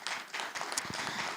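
A church audience applauds and cheers to welcome a couple onto the stage, dense steady clapping throughout a short stretch, moderately loud and fairly close.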